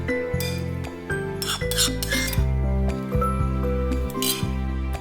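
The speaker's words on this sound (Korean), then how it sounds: "그리고 잘 섞어주세요." Namul seasoned with three spoonfuls of basic seasoning and tossed in a bowl for Jeongwol Daeboreum: soft rubbing and light clinks from the bowl, fairly quiet under steady background music.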